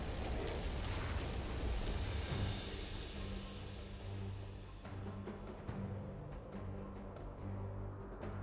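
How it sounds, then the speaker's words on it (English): League of Legends turret destruction, a loud crumbling explosive rumble up front that fades into a lower tonal hum with a few small pops afterward. "Red team's turret has been destroyed."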